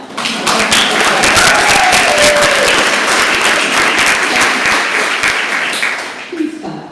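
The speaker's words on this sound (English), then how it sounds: "Please clap." An audience at an arts assembly claps steadily and loudly for about six seconds. The dense applause fades slightly toward the end, with a few scattered voices underneath.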